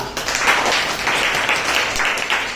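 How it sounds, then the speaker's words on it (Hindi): Students in a classroom math lesson clap briefly together, a short, fairly close burst of uneven hand clapping that carries on for a couple of seconds. "अगर सही हो तो तालियां"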